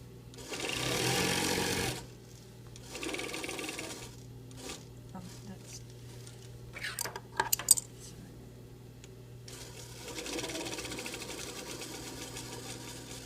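A domestic sewing machine stitches fabric in separate bursts, a whirring run at the start, another shortly after, and a longer one near the end, with quieter handling clatter and clicks in between.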